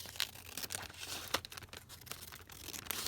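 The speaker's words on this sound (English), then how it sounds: "So I'm just going to tear that off" Stuck-down paper being torn from an envelope, a series of close, quiet rips and crinkles in short irregular bursts, with no voices.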